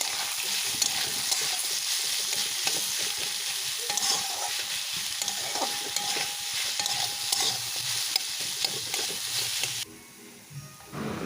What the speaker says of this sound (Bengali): ওই কড়াইতেই কিছুটা সরিষার তেল দিয়ে পেঁয়াজগুলো বেরেস্তার জন্য ভেজে নেবো